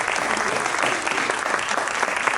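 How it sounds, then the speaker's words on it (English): An audience at a Bethel program gives a round of applause for conference attendees, a dense, steady clapping that fills the whole moment at moderate volume with no talk over it. "If you all join me in giving a round of applause."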